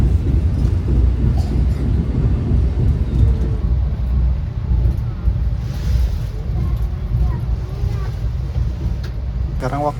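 The Bogowonto passenger train pulls into Kutoarjo station with a heavy, continuous low rumble. It is loud and close and holds steady throughout, with faint higher rattles on top near the end.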